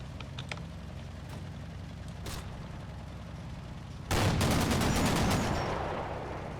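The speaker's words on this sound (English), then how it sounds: "A bit of fire from the M8 on that team over on the right there." Gunfire from an M8 vehicle in a video game: after about four seconds of quiet ambient game noise, a loud sudden burst of rapid shots erupts and then fades slowly.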